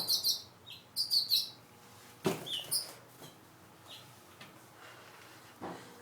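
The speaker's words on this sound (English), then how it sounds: "There's a party of birds in the backyard and they're getting all crazy because there's 2 nests." Several birds around two nests in a backyard chirp in quick, high bursts of tweets, fairly close at first and then trailing into sparser calls against faint outdoor hiss.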